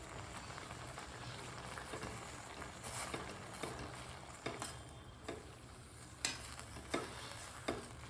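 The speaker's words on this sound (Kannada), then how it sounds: "ಸ್ಪೂನಲ್ಲಿ ಒಂದು ಸಲ ತಿರುಗಿಸ್ಬಿಡೋಣ" A spoon stirring amaranth greens and lentils cooking in a pot, a faint continuous bubbling hiss with a few soft scraping knocks against the pot spread through the stretch.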